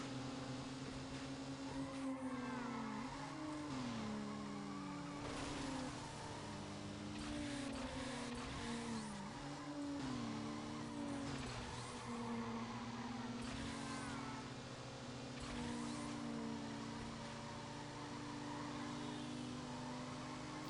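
A Nissan Skyline with a stage 1 tune races in Need for Speed Underground, its engine droning and rising and falling in pitch through repeated revs and gear shifts, with no talking.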